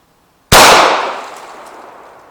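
A single loud gunshot fired at a target: a sharp, close crack followed by a long fading ring, with no talk.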